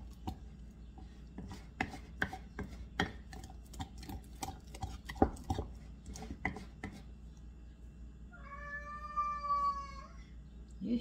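A house cat meows plaintively near the end, following a series of sharp tapping and clicking knocks in a quiet kitchen setting where food cultures are being fed.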